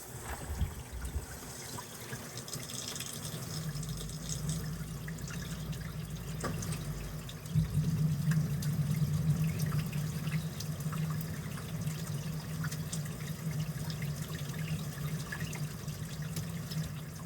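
Tap water runs steadily from a faucet fed by a newly installed tankless water heater in a vintage Airstream RV, a continuous near rushing flow that grows fuller partway through and holds without talk.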